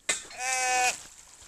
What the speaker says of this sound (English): Lots of sheep to run past.